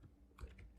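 Quick, faint clicks of fingers typing on a computer keyboard, a few soft keystrokes close by in a quiet room.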